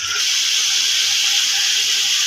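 Water hisses and sizzles loudly as it is poured onto chicken frying with masala for degi biryani, a steady, close, bright steam hiss filling the whole moment.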